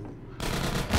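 A video game explosion in the Half-Life 2 Episode 2 beta breaks out as a sudden rumbling blast from near-silence and keeps roaring and swelling through the end.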